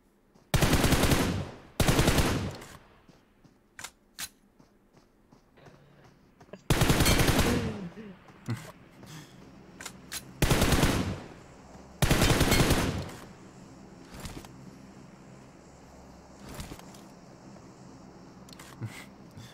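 Bursts of automatic gunfire from a PUBG Mobile match, several loud sustained volleys separated by pauses, with quieter distant shots and faint game noise between them.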